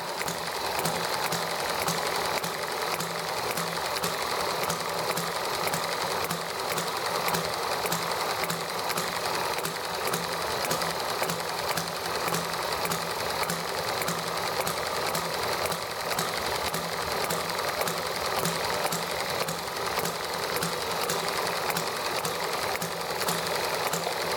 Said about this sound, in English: We'll also start up the ETX here.